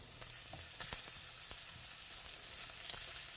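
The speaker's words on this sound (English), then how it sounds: "And so this is the lamb chop searing, right?" Lamb chops sear in a hot pan with a steady, fairly quiet sizzle and frying crackle, dotted with small sharp pops and spits, with no one talking.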